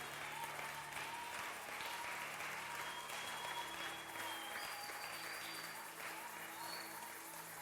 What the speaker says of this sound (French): Give a good hand to Jesus